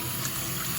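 Water bubbles and hisses steadily at close range during a tuna experiment, a continuous broadband fizz with no pauses.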